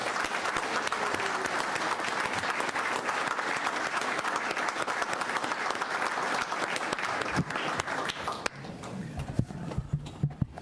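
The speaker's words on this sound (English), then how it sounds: "If we could all just give them one last round of applause for their heroic actions." Sustained round of applause from the audience at a town board workshop meeting, steady dense clapping filling the room for several seconds before tapering into scattered claps near the end.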